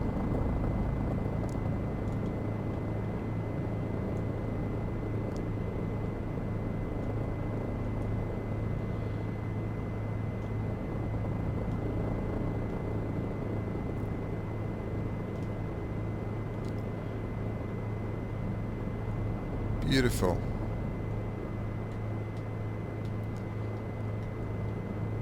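Simulated helicopter on a night flight over the Faroe Islands in X-Plane 11, a steady engine and rotor drone with a constant hum throughout, with a single brief word spoken over it.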